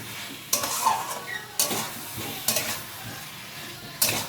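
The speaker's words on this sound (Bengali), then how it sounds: "দইটা দিয়ে দেখো ভালো করে মিশিয়ে নিচ্ছি" A spoon stirs potatoes and yogurt together in a pan over a lowered flame for a potato curry. Scrapes and scoops come every second or so over a soft, steady sizzle.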